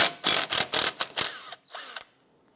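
Cordless power tool spinning out a Torx bolt on the rear wheel hub of a 2005-2007 Ford Five Hundred during strut replacement, several loud close bursts of whirring and ratcheting in quick succession, then a brief final burst.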